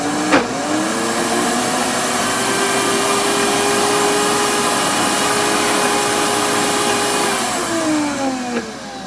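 A food processor grinds vegan blueberry cheesecake ingredients in one steady, loud whirring run that spins up at the start and winds down near the end, with no talk.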